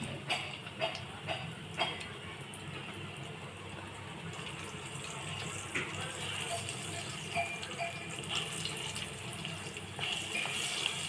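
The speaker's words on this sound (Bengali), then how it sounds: "পরোটাটা দিয়ে আমি একটু সময় নিয়ে ভালোভাবে ভেজে নিব।" Naan paratha frying in hot oil, a steady low sizzle and bubbling hiss throughout, close and fairly quiet, with a few faint clinks early on.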